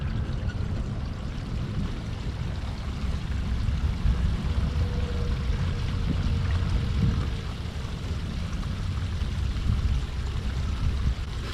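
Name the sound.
water flushing out an RV black tank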